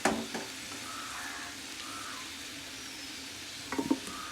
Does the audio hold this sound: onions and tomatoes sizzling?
yes